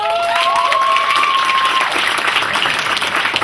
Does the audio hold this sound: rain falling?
no